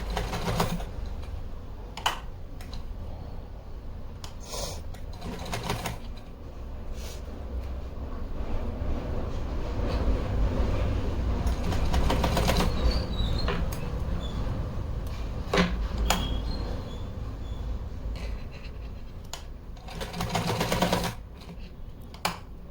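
Sewing machine stitching a folded hem on a small designer dress for a Laddu Gopal idol, running in steady rapid bursts with brief pauses, close and fairly loud.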